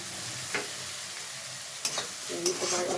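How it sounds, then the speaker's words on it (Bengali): Shrimp sizzle in hot oil while a utensil stirs them around the pan, loud frying hiss broken by several sharp scrapes and clinks. "এবার এই চিংড়িটা ভাজা ভাজা"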